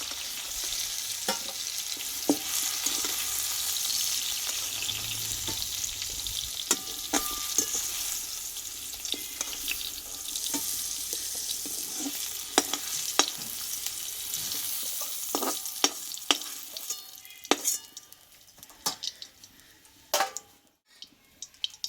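Mixed vegetables sizzle and crackle in hot oil in a pan, a steady frying hiss broken by sharp clicks and scrapes as a strainer lifts the pieces out, close and without talk.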